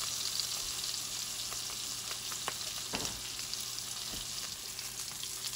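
Salmon pan-searing in garlic butter, giving a steady, even sizzle with faint crackles and spits, close and constant throughout with no talk.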